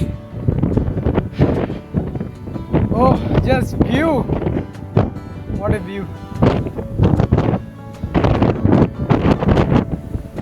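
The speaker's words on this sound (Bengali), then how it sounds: "মনে হচ্ছে বাতাসে উড়ায় নিয়ে চলে যেতেছে, এমন অবস্থা, এত পরিমাণে বাতাস" Strong wind gusting across a mountain viewpoint in Korea's Yeongnam Alps, buffeting the microphone as a loud, rushing roar under continuous close talking.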